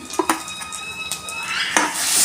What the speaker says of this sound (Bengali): কাজু পোস্ত বাটাটা দিয়ে দিলাম।